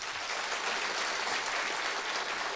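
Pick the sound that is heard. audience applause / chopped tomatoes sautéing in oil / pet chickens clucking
audience applause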